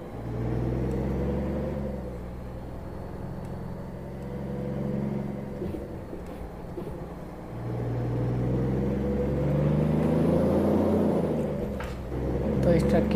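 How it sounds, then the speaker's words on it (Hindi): Kenworth K200 truck with a 525-horsepower engine in American Truck Simulator, a steady loud low diesel drone that swells and eases as it revs, running continuously and alone. "ट्रक की आवाज़ सुन रहे हैं आप"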